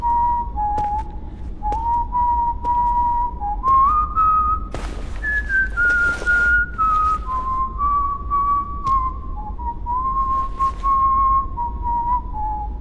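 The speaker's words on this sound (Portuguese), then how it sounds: "É a versão assoviada de Leave Her Johnny, música de pirata do Assassin's Creed 4 Black Flag" A person whistles the pirate shanty Leave Her Johnny from Assassin's Creed 4 Black Flag, a clear solo melodic line of sustained and stepping notes, loud and close, with a brief noisy burst midway.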